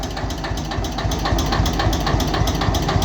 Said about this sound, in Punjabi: ਆਵਾਜ਼ ਵੇਖੋ ਬਾਈ ਟਰੈਕਟਰ ਦੀ ਬੋਲਦਾ ਨਾ ਪਿੰਡੇ ਵਾਂਗੂ